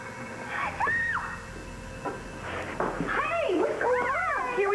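Shrill wavering screams and cries rise and fall in a tense television soap opera scene, loud and close, with a voice breaking in between the outbursts.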